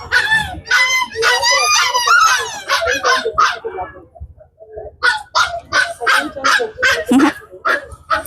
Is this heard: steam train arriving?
no